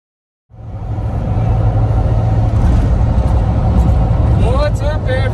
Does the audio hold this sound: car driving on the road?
yes